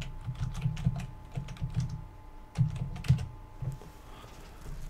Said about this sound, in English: At this point in time, you simply enter a password.